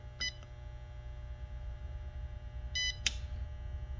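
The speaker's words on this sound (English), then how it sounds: "press and hold it until the beeping stops" Two brief electronic beep bursts about two and a half seconds apart from an Insteon thermostat during a factory reset, each a quick high chirp over a faint background hum.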